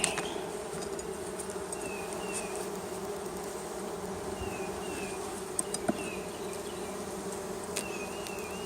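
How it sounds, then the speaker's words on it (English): Honey bees buzz around an open hive on a bright sunny day, a steady dense drone with occasional closer individual bees passing. "You want to work the bees on bright sunny days because then they're all out."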